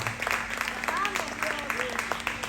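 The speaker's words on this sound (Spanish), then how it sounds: "Si le vas a dar un aplauso, dáselo con fuerza" A church congregation applauds during a sermon, with short bursts of clapping mixed under voices and a faint steady hum in the background.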